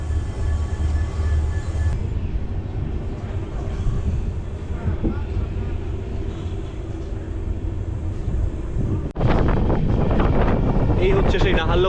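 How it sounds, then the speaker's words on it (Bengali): An express train from Naharlagun pulls away toward Dibrugarh and rumbles on with a steady low roar and heavy wind buffeting the microphone, getting louder and harsher after a sudden jump partway through. "আমাদের ট্রেন এখন বেরিয়ে যাচ্ছে ডিব্রুগড়ের দিকে"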